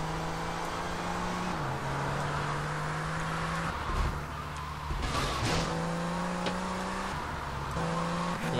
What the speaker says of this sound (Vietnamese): Đây là xe gốc trong game cho nên chạy xe rất là đầm, nó rất là ổn.